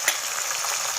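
Garlic with red and green chillies frying in hot oil, giving a dense, even sizzle that is close and loud across the short stretch, with no voices.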